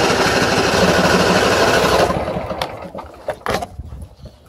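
An engine cranks in the cold during snowy conditions without catching, with a loud steady churning for about two seconds that cuts off abruptly, followed by a few scattered clunks and clicks.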